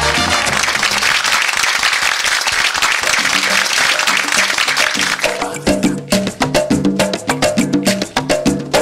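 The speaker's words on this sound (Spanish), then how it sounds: "un aplauso" Loud audience applause on a television variety show fills the first half, a thick wash of clapping that gives way to rhythmic beats and music as the applause fades out.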